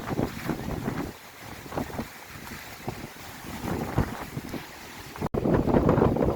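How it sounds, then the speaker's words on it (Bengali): Strong wind and heavy waves at a Meghna river ghat during Cyclone Remal, with a steady roar of buffeting wind noise and surging water and a sharp gust burst near the end. "দেখতে পাচ্ছেন কত ঢেউ, প্রচণ্ড আকারে ঢেউ হচ্ছে এখানে।"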